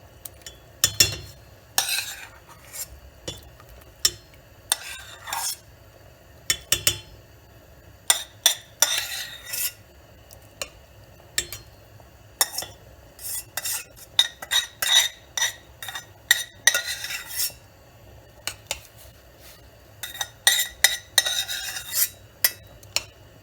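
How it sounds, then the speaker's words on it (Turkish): Cooked rice being tipped from a utensil into a pot for oven-baked rice pudding, with repeated close metallic scrapes, taps and clinks of a spoon against the pot, in bursts over a steady quiet background. "Şimdi içine daha önce haşladığım pirinçlerimi ilave ediyorum. Hepsini şöyle güzelce içine boşaltıyorum."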